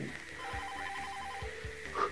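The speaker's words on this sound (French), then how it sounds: "t'as le téléphone qui sonne" A telephone rings inside the horror game Don't Chat With Strangers, a faint repeating electronic trill held steady over a low ambient hum, with a few soft thuds and a brief brighter chime near the end.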